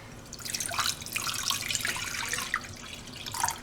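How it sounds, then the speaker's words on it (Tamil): Water pouring from a tap or vessel into a cooking pot for drumstick soup, a continuous close splashing stream that swells and dips over a few seconds. "இதில் தண்ணி நல்லா ஊற்றுவோம்."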